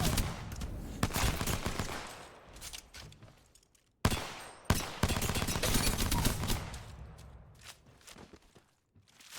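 P2020 pistol shots in Apex Legends, a quick string of sharp close shots that thins into single reports, pausing near the middle before a second volley, with footsteps and no talk.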